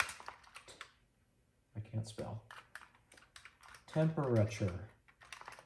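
Keys on a Texas Instruments TI-99/4A home computer's Mitsumi keyboard are tapped in quick irregular bursts of clicks, interleaved with a man's nearby speech that partly overlaps the typing.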